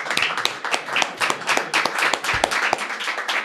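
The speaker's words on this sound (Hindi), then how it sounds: "यहाँ पर बैठे इतने खूबसूरत चेहरों के लिए एक बार जोरदार तालियां।" Sustained audience applause fills a poetry show hall, dense overlapping hand claps with sharper individual smacks standing out, steady and fairly loud throughout.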